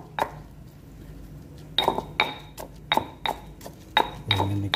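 Spices being pounded by hand in a home kitchen, with sharp, clinking strikes of hard utensils landing in an uneven rhythm of about a dozen knocks, close and fairly loud.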